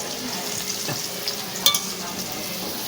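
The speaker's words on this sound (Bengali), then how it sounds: "এই পাশে তেল ছিটছে শোনা" Potatoes frying in hot oil in a home kitchen give a steady, close sizzle, broken by one sharp spit of splattering oil midway and a few soft stirring scrapes.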